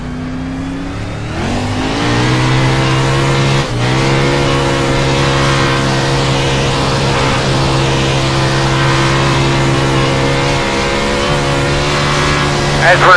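Race car engine in a racing video game holding a steady high drone through a qualifying lap, with a brief dip near four seconds before the pitch settles and continues loud and constant.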